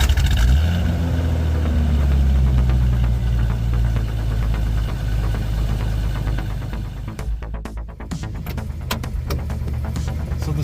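A Jeep Comanche pickup truck with cracked leaf springs driving, its engine a steady loud rumble throughout, with some rattling and clunking near the end and no talk.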